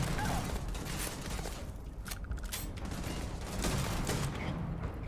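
Shotgun fire in the Starfield video game, a dense burst of blasts and mechanical clatter over a steady background rumble, with a louder rattling volley near the middle.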